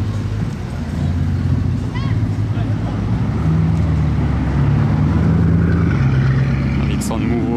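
Bugatti Chiron supercars drive past, their engines a low, rising and falling rumble under loud, excited talk from a nearby voice.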